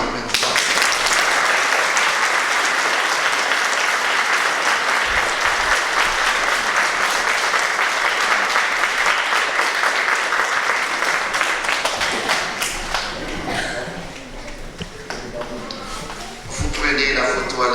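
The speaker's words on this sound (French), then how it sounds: "On peut applaudir maintenant." Congregation applauding during Mass in the Chapelle Notre-Dame de Grâce, a dense sustained clapping that fills the chapel for about twelve seconds before thinning out and fading, with some scattered voices underneath.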